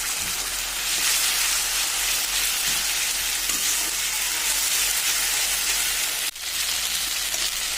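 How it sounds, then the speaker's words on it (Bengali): A paste of ginger, garlic, cumin, dried chilli and green chilli hisses and sizzles loudly in a pan of fried onions for a meat curry. The frying stays steady and unbroken, with a brief clatter near the end and no talk. "পেঁয়াজটা ভাজা হয়ে গেছে, এবার দিয়ে দেবো মশলা।"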